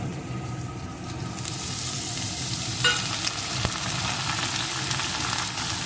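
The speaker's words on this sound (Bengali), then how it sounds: "বেগুনটাও একটু ভেজে নেব আলুর সাথে" Brinjal and potato pieces fry in oil in a pan with a continuous close sizzle and crackle, a light clink partway through, no talking.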